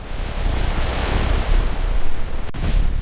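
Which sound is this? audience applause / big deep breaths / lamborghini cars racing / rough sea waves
rough sea waves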